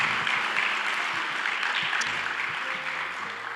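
An audience claps steadily at a volunteer awards ceremony, a dense, even applause that fades slightly toward the end.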